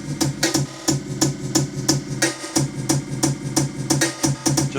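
Cut-up jungle drum break rearranged into a new pattern, rapid snare and kick hits with bright cymbal noise in a driving, choppy loop, loud and close without any talking.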